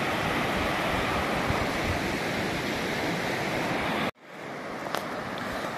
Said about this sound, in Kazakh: Кәдімгідей су ағып отыр волналармен